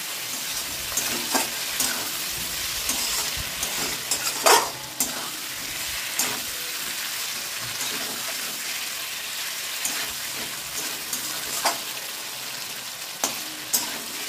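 Boiled potatoes fry in a curry masala with a continuous sizzle, while a spoon scrapes and stirs the pan in frequent short strokes, close and at moderate loudness.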